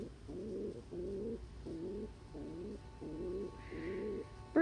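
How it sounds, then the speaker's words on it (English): A pet dove or pigeon coos softly and rhythmically, about six evenly spaced low burbling calls in a row, close by in a quiet room, ending with a brief higher chirp. "There's that Coo"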